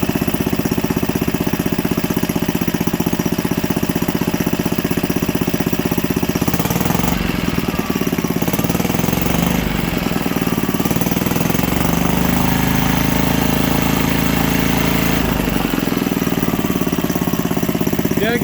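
A 1951 Briggs & Stratton engine, pulled from a barn and overfilled with oil, runs loud and close with a rough, rapid chugging, its pitch shifting a little as it revs and settles.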